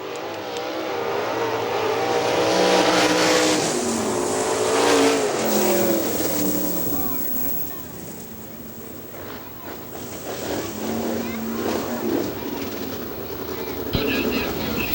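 Sprint cars race in a heat on the dirt oval at Hartford Speedway Park, a loud, continuous engine roar that swells and fades as the pack passes, with a commentator talking over it.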